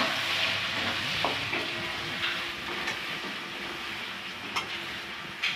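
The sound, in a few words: onions frying in oil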